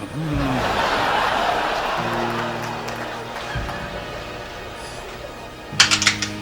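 Keyboard typing in a newspaper office from a 1994 film, a fast clattering run of keystrokes beneath voices, with a few louder clacks near the end.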